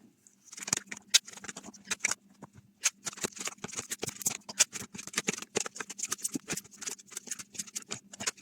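Oracle cards shuffled by hand for a tarot-style reading: a steady run of crisp, close riffling flicks and soft card slaps, repeated quickly for several seconds with no voice.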